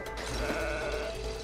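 Sheep bleating in the video game It Takes Two, a sustained wavering bleat heard clearly and alone over a steady game background.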